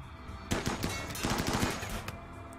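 Gunfire in the video game RimWorld: loud, rapid bursts of closely spaced shots rattle in two clusters, with a brief pause between them.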